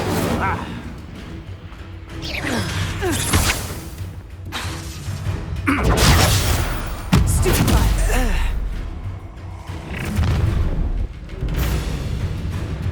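Incendio fire spell blasts burst out during a Hogwarts Legacy duel, a few sharp whooshing explosions mixed with combat effects and music, with characters shouting and talking over them.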